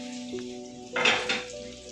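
Chicken cordon bleu searing on a hot plate or tawa, a steady sizzle of frying with a brief louder hiss and scrape of cookware in the middle, close and without voices.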